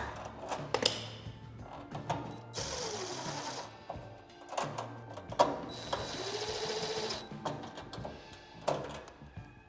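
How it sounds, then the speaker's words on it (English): Impact driver screwing screws into a Masterbuilt Gravity 560 grill during assembly, two sustained whirring, rattling runs of a few seconds each, close by, separated by clicks and handling noise. "I'm going to use my impact, and we're just going to carefully screw this in"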